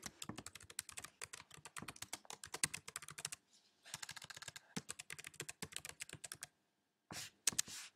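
Username typed on a computer keyboard at a website login field, a close run of quick crisp key clicks in bursts with two short pauses, no voices.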